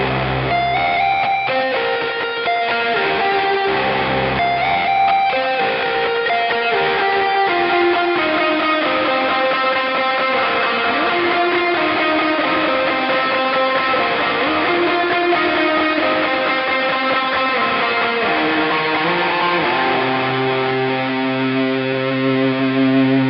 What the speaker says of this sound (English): I've swapped the main drive out for a Rat, and as you can probably hear, there's quite a lot of hum going on